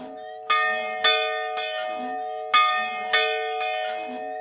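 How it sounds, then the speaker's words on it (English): Bells in an 1860s church ring out loud and near, six strikes in two groups of three, each leaving long shimmering overtones and a low steady hum that rings on between strokes. "That was the first thing I wanted to try when I walked in here, is to see if the bells still worked."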